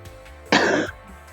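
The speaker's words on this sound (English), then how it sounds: "I apologize if I end up coughing." A single harsh cough bursts out loud and close, lasting under half a second, with quiet room tone before and after.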